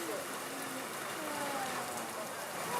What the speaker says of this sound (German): weil es so fest regnet